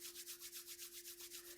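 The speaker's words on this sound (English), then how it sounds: "rubbing your hands together with your eyes shut, generate heat" Two hands rub briskly together to build heat, with quick, even back-and-forth strokes, about six per second, close and clear with no talking.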